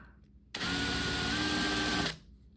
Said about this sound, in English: I make just enough of a countersink to fit that head